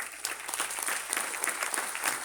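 An audience claps together in a steady, continuous wash of applause, moderately distant and even in level, with no talking over it.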